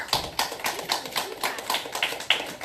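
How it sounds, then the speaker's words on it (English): Scattered audience clapping arrives in distinct, fairly evenly spaced bursts, moderately loud and close, with no talking over it. "Let's give her a round of applause."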